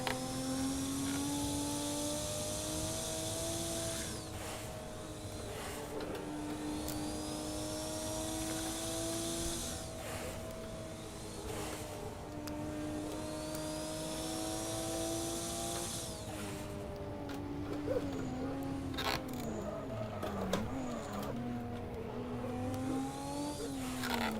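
A Nissan R31 Skyline Group A racer drifts in Assetto Corsa at Bathurst, its engine droning steadily with rising and falling pitch as revs shift, sustained and close for the whole stretch, with no talk.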